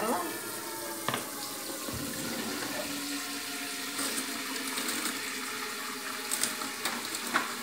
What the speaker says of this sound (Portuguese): deixa eu pôr água aqui